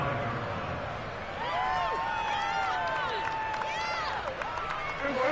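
A stadium crowd murmurs and roars steadily in a Madden football game on PS5 during a Cowboys drive after a punt, with rising and falling whistles cutting through the continuous wash.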